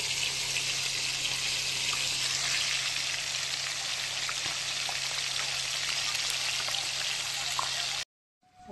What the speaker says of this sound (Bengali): আর এক খোলা চাপিয়ে দিলাম মাছ।